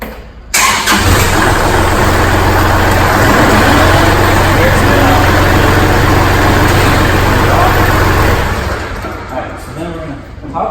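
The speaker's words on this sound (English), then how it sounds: "you want to crank the tractor, turn the lane shark on for about 2 to 3 seconds" A tractor engine cranks and catches, then runs loud and close at a steady idle for about eight seconds before dropping back to quieter rumbling.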